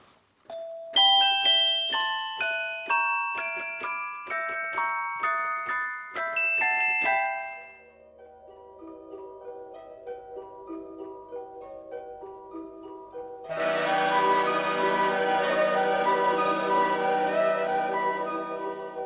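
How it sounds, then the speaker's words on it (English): Orchestral title music from Vertigo: delicate bell-like celesta and vibraphone notes cascade in a repeating pattern, give way to softer sustained tones, then a fuller swelling passage with harp and woodwind enters, loud and continuous with no voices. "we have gently cascading harps, a dreamy, jazzy vibraphone, and most unexpected of all, the delicate, bell-like celesta"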